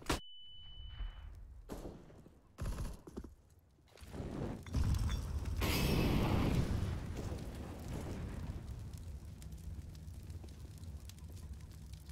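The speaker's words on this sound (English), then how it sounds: "Incendiary." An incendiary grenade bursts into fire on the Anubis map in CS:GO, a thumping impact followed by a loud, roaring rush of flames that keeps burning steadily, with scattered in-game clicks and thuds around it and no talking.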